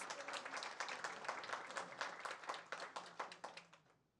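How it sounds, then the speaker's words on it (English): Steady applause from a crowd at a Board of Education meeting, dense rapid clapping that holds evenly before fading out at the end. "please give that round of applause"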